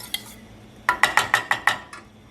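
A spoon knocks against a pot six times in quick, even succession while a rooibos tea mixture is stirred, each clink bright and close, after one earlier tap and before a lighter final touch.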